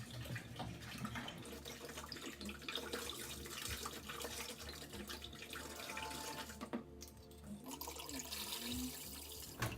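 Tap water runs steadily into a brewing bucket, a continuous close splashing rush that lasts the whole time and changes slightly in tone toward the end.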